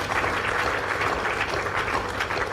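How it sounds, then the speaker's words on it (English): Moderate applause from an audience at a memorial lecture, an even wash of clapping held steadily throughout without noticeable speech. "We deserve a clap."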